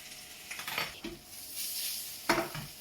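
Onion and baby marrow being sauteed in a pan, with faint sizzling and scattered clinks and scrapes of a utensil against the pan, two sharper knocks standing out, quiet and close.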